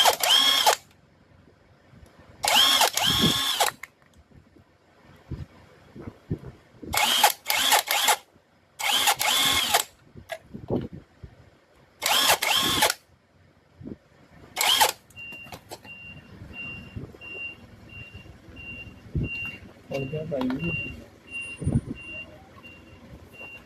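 Power drill unscrewing the five screws holding the drain motor of an automatic washing machine, heard as several loud, separate whirring bursts of a few seconds each, close by, followed by quieter handling clicks and rattles.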